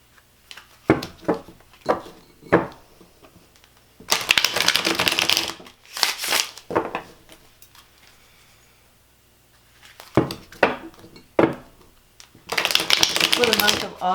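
Tarot cards are shuffled in several bursts of crisp riffling and slapping, each lasting a second or two and separated by soft taps and quieter gaps. The sound is close and fairly loud.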